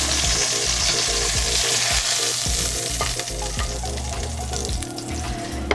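Mirepoix of onions and other vegetables goes into a hot pan just used for searing antelope shank, producing a loud, constant sizzle with repeated spoon stirs and scrapes against the pan.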